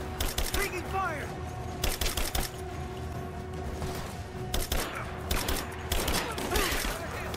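Gunfire crackles in Rise of the Tomb Raider in rapid clustered bursts over a constant rumble of background noise. Shots repeat in volleys, and faint voices are heard in between.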